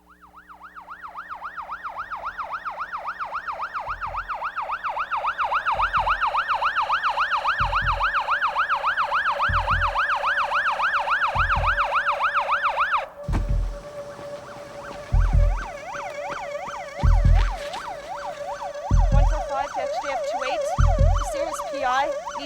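An ambulance siren wails in a rising and falling sweep, loud and continuous, then switches to a different tone as rhythmic thumping impacts and traffic noise come in.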